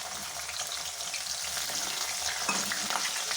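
Steady sizzling of green chillies frying in hot oil, a close, continuous crackle with occasional stirring scrapes and no talking.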